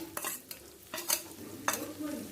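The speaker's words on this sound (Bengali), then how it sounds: "কাঁচা লঙ্কা এক মিনিট তেলের সাথে ভেজে নেব পেঁয়াজ রসুন কাঁচা লঙ্কা তেলের সাথে" Chopped garlic, onion and green chili frying in oil, heard as a few sharp scraping stirs of a utensil against the pan over a soft, low sizzle.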